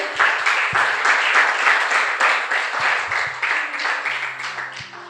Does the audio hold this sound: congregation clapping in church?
yes